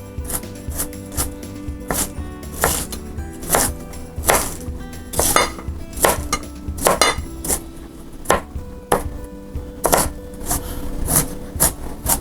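A knife chops vegetables on a board for a dumpling filling of ground pork and shrimp. The blade strikes come close and crisp, fast and uneven, over a faint kitchen background.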